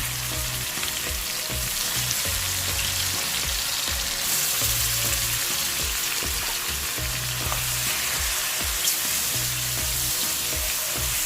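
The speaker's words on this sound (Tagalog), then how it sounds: "Ang next nating lalagay yung ating chicken." Chicken frying with onion and garlic in a pan, a loud continuous sizzle with low rhythmic scraping and stirring pulses repeating every couple of seconds.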